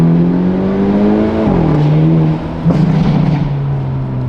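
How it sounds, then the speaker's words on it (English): A car engine is held high in the rev range in first gear, a loud, strained drone whose pitch dips and steadies as it holds near the top of the RPM range. "We just held it in first gear, high in the RPM range."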